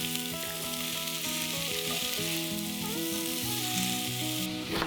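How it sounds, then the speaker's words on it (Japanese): Potatoes, onions and asparagus stir-fried in olive oil with garlic in a pot, a dense, steady sizzle with faint stirring close up and no voices. "じゃがいも、玉ねぎ、アスパラガスを加えてさっと炒めます。"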